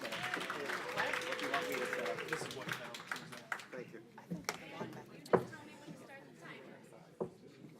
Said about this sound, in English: Let's give our contestant Alan a round of applause.